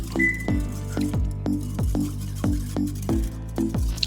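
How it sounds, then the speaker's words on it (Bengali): Yogurt is whisked in a bowl with a rapid, regular series of clinking taps as the utensil strikes the sides, about two strikes per second, close and loud, with no talking. "ফেটে নিব সুন্দর করে আমি এটাকে সুন্দর করে মিশিয়ে নিব যাতে একেবারে দানা দানা না থাকে"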